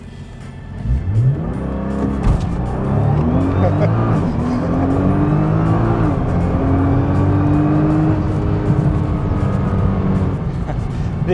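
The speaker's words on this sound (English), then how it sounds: "we would hold the gas down, wait about 3 seconds, and this car should launch as fast as it possibly can" 2015 Nissan GT-R NISMO launching under launch control, the engine revving loudly and then pulling hard as it accelerates, the rising pitch climbing steadily over several seconds, close and loud, with some talk inside the car.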